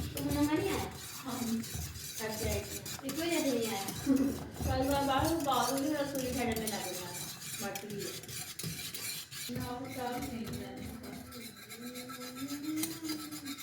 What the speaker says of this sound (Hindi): अब मैं ये डालने लगी हूँ कस्टर्ड। ठीक है, डाल के इसे अच्छे से मिक्स करना है आपने